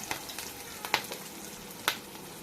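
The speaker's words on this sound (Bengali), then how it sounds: "দেখতেই পাচ্ছেন আমি নাড়াচাড়া করে নিচ্ছি রসুন আর লঙ্কা" Garlic and green chili frying in a pan give off a faint, steady sizzle, broken by a few sharp taps and scrapes of a spoon as they are stirred.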